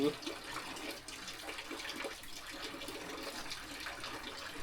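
Steady rain falling outside, a soft even wash of patter heard from indoors, faint and continuous for a few seconds.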